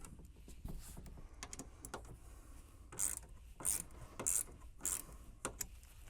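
Ratchet clicks tightening screws on a full-motion swivel and tilt TV wall mount, a few short bursts of mechanical clicking, quiet and close, no talking.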